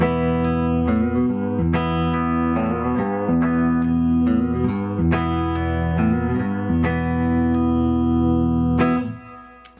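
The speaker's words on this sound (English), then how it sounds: "I'm just going to play the same riff over and over, and in between I'm just going to kind of tap that 3-way selector so you can hear the difference." Carvin CT424 solid-body electric guitar, made in the USA, repeating the same riff at full volume with an open tone while the pickup selector moves between neck, middle and bridge positions; steady, loud picked notes with no talking.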